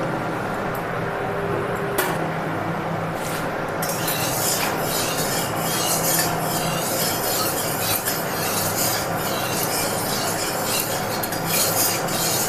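Mustard oil spreading and scraping around a hot wok while radish greens are readied for frying: a steady close rasping, rubbing stir with a faint sizzle underneath, continuous throughout.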